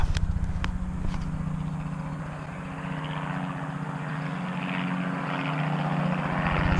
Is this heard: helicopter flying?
yes